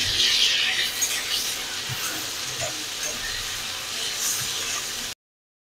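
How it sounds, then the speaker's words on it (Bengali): Bitter gourd fries in oil in a home kitchen, giving a steady hiss and sizzle with a few soft stirring knocks throughout. "বড়ি ভাজার পর আমরা করলা ভেজে নিচ্ছি।"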